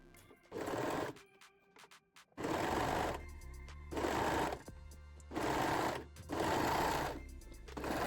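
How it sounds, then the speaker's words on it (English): A sewing machine stitching a seam on lace-back panties with a serger or zigzag stitch, running in five loud, close bursts separated by short pauses with faint mechanical clicks. "Now we can sew the seam using a serger or a zigzag stitch."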